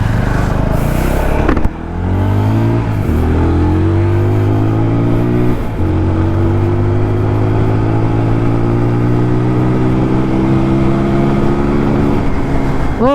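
TVS Apache RTR 200 4V motorcycle, a 2021 BS6 model ridden in rain mode, revs and accelerates steadily. Its engine note climbs through several gear-like rises with brief dips between them, loud and close throughout.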